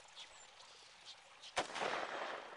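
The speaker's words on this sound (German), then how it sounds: "Turbos hat auf mich geschossen" A single sharp gunshot cracks out in a Trouble in Terrorist Town game round, followed by a noisy wash of fading reverberation against a quiet background, with no talk.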